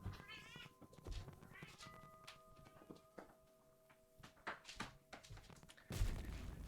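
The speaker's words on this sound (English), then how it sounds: "I have to let my cat out." A house cat meows several times, with wavering tonal cries near the start and scattered thumps and clicks around them, fairly quiet in an indoor room with no talking.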